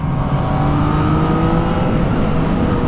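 A 2019 Yamaha MT-09 SP three-cylinder motorcycle in standard riding mode, heard as a steady, close engine drone with a rising harmonic whine under throttle, loud and continuous with no talk.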